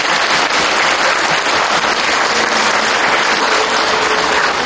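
Steady, loud applause from an audience at an autumn carnival for preschoolers in Sighet, dense clapping filling the whole stretch without a break.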